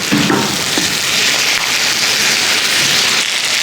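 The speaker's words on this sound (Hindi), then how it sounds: "ये देखिए हमारी मेथी भून रही है।" Fenugreek leaves and chicken frying in a pan, a loud close sizzle and crackle of hot oil, steady throughout with small pops.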